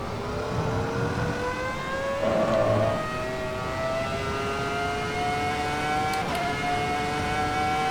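A Formula 1 car in the Assetto Corsa EVO racing game holds a rising high-pitched engine whine through gear changes, steady and moderately loud, with a brief burst of extra noise partway through.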